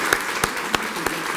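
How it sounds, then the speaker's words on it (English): Audience applause for Chad at a gathering, a steady wash of clapping from a crowd with a few louder individual claps standing out. "let's have a round of applause for Chad for really making this all possible."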